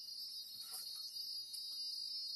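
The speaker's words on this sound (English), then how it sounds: "I'm going to count out 10 beeps." A Dolphin Neurostim device gives high electronic beeps during a treatment pass over scar tissue, steady tones near the top of the range with slight bursts, quiet and alone with no talk.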